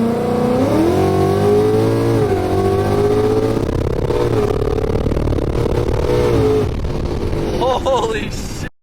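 A Ford Mustang GT accelerates hard with traction control on, its engine note climbing steadily through a gear change and then dropping, heard close from inside the car before a brief rising whine near the end and a sudden cutoff.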